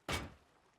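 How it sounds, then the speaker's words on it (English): A single heavy thunk as a door drops into place while building a base in Rust, one short close impact that fades quickly into quiet. "Drop your door down."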